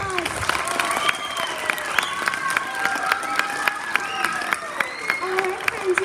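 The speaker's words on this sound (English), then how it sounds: "Can you give them one more round of applause?" An audience at a school general music concert claps for young performers, dense sustained applause with sharp individual claps and a few cheering voices, fairly close.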